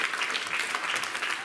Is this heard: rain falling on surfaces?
no